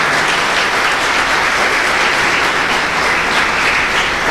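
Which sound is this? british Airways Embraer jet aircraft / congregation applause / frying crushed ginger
congregation applause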